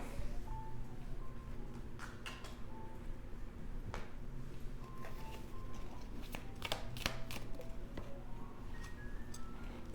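Tarot cards being shuffled and drawn, giving soft riffling and repeated sharp card snaps and taps over a steady low background hum, close by and fairly quiet, with no talking.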